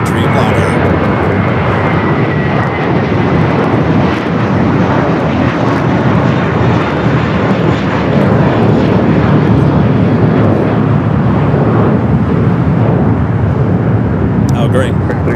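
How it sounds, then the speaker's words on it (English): An Air Tahiti Nui Dreamliner arriving at LAX makes a loud, continuous jet roar that holds steady throughout, heard close by at a plane-spotting spot. "Next arrival is the second Air Tahiti Nui Dreamliner."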